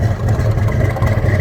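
A 1969 Ford Mustang Mach 1 restomod's 427 side oiler V8 with a 5-speed Tremec and Hypo exhaust runs steadily close by, a deep, loud, continuous rumble with no talking over it.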